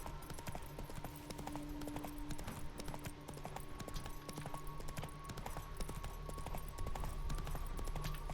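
Roach the horse walks in The Witcher video game, hooves clip-clopping in a steady rhythmic pattern throughout over a constant game ambience and music bed, moderately quiet.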